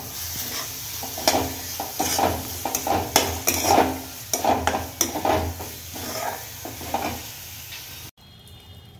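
Turmeric and spices being stirred and fried in a pan while cooking whole masoor, with a steady sizzle and repeated scraping stir strokes close up, ending abruptly in a quieter moment.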